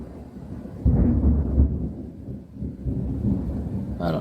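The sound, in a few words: thunder from a thunderstorm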